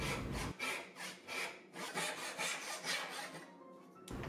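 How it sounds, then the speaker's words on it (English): A dovetail saw cuts through wood while an axe handle is being shaped, giving steady, rhythmic back-and-forth rasping strokes, close and clear, with no talk. "So I figured I'd clear out the majority of the waste just using my dovetail saw here."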